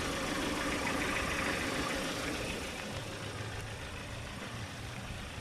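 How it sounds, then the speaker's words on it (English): A steady Kia Sorento engine idles with a low, even rumble and broadband hiss throughout, fairly close, with no talking. "look under the engine while it's running"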